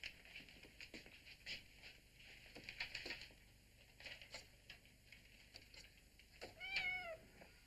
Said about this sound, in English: James, how can we afford to be feeding a kitten now?